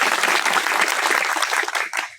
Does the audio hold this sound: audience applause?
yes